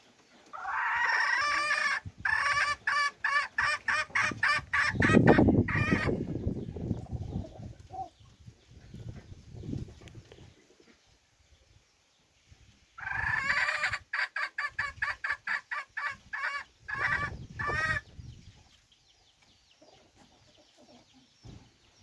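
Chickens and a rooster heard up close in two bursts of rapid, rhythmic clucking and cackling, with a crow between them and quieter gaps in between.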